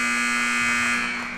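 At a high school junior varsity basketball game, the end-of-period buzzer blares as one loud, continuous electronic tone. It holds steady for the full second and a half, with the crowd's noise faint beneath it.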